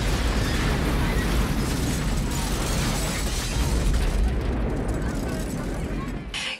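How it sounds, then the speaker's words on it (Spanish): An explosion in an action movie scene roars as a dense, loud, rumbling blast, sustained for several seconds before it cuts off abruptly near the end. "ckey Rourke, que al igual que Steven Seagal, le gusta darle la espalda a las explosiones"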